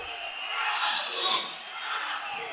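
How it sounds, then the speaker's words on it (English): A hockey arena crowd at a playoff final chants in unison, a distant, swelling roar of voices that peaks mid-clip. "You can hear the crowd chanting, Azul, Azul."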